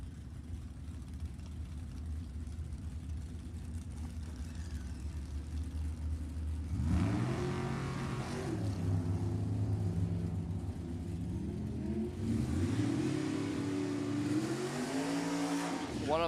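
A 27T roadster race car at a drag race is heard as a steady engine drone that jumps into rising revs midway and again near the end, with a public-address voice audible under the engine noise.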